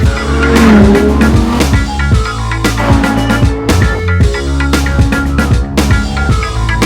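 Audi R8 sports car on the race track at Auto Club Speedway in Fontana, a loud close engine roar with repeated gear shifts and squealing tires throughout.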